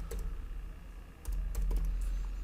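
Computer keyboard typing out the TypeScript keyword constructor, a brief run of crisp, close keystrokes in uneven rhythm with a short pause midway, heard alone without talk.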